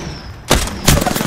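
Two sharp, loud gunshots from the shooter game Apex Legends, fired close together, each followed by a short rattling tail.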